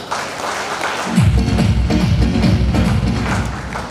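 Applause for Ajit at a sales seminar, crowd clapping throughout, joined after a second by heavy rhythmic thumps, likely music with a strong beat, playing loudly underneath.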